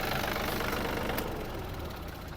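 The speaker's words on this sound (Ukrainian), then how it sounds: "Ось така гарна робота двигуна. 25 кінських сил. Ну що ж, давайте глушити." A three-cylinder, 25-horsepower Yanmar AF-250 mini tractor engine runs at steady revs with a dense, throbbing knock, close and continuous, dropping slightly in intensity toward the end without a clear full stop.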